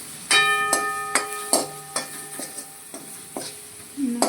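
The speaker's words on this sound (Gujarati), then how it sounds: "હવે ફેરવી લઈશું." A spoon stirs pasta with its seasoning packet in a metal pan, giving a steady run of sharp, ringing scrapes and clinks about every half second over a soft sizzle, close and fairly loud.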